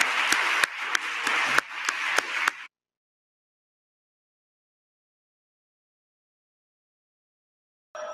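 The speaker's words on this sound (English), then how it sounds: "let's give our candidates a round of applause and thank you" Forum audience applauding candidates at a criminal justice reform event: a short burst of clapping with a few sharp individual claps standing out, lasting under three seconds before falling silent, with a faint sound returning at the very end.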